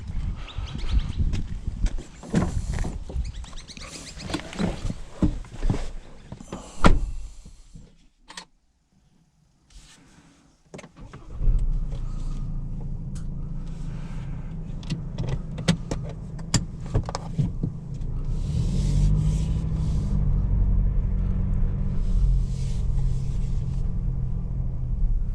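A PX3 Ford Ranger XLT dual-cab 4x4 ute: a door thud and clatter, a brief quiet, then the engine rumbles and the ute pulls away, a steady low drone with road noise and faint bird chirps outside.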